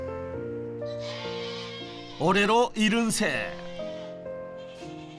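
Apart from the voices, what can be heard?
male black goats bleating on a farm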